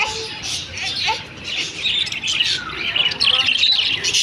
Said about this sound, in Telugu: పావురాలు కాదు ఇవి, చిలకలు.